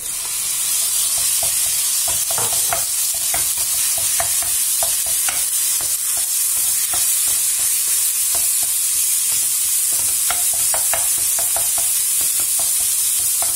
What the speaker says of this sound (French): Mes oignons commencent à caraméliser. Je vais rajouter ma viande hachée.